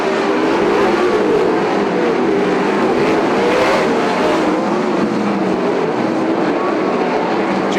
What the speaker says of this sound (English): Steven Tyner going to get on the gas.